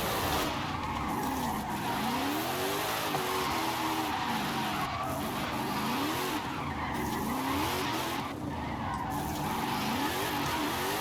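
Car drifting in Forza Horizon 5, tires squealing in long wavering sweeps over a steady engine drone, sustained and fairly loud throughout with no talk over it.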